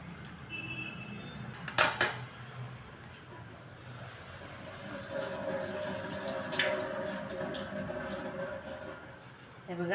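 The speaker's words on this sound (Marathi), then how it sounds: "सगळा पालक आपल्याला चाळणीत काढून घ्यायचा आहे आणि हा नंतर लगेच गार पाण्याखाली" Blanched spinach in a colander under cold running tap water, a soft steady splashing with a sharp metallic clatter early on, quiet and close.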